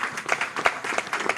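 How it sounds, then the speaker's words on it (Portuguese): Audience applause at a climate change yearbook launch panel, a short burst of scattered claps at moderate level, fairly steady across its length with no talk over it. "Uma salva de palmas para ele."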